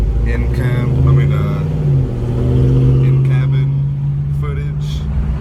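Straight-piped R53 Mini Cooper S revving, a loud, steady droning exhaust note that rises and falls across the whole stretch, with a person talking over it.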